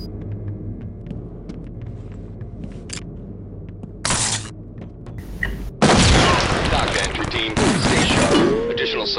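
Bursts of gunfire in the tactical shooter SWAT 4, a short burst near four seconds, then a loud sustained fusillade from about six seconds on, over a low ambient rumble.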